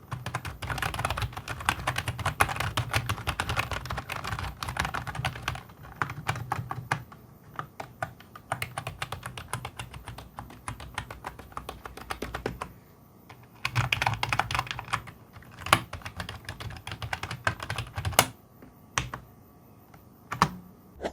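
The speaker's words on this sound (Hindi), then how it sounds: "इस कीबोर्ड का साउंड टेस्ट करके देखते हैं तो वो कुछ यूं है।" Steady rapid typing on an AULA F2028 membrane gaming keyboard, dense soft clacks in continuous runs with a couple of brief pauses, close and fairly quiet, no voices.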